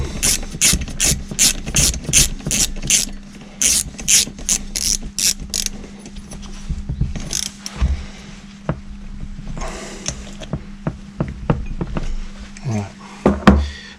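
A ratchet clicks rapidly and evenly while tightening a part on a seized line trimmer, a close run of sharp clicks followed by scattered mechanical knocks and clatter, with someone speaking at times.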